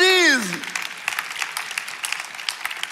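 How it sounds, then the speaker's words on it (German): An audience claps at a Sunday night church service after a preacher's exclamation, a lively spread of handclaps that continues steadily at moderate distance following a short shouted vocal flourish at the start. "Applaus!"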